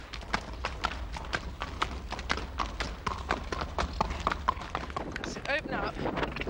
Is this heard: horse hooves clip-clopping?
yes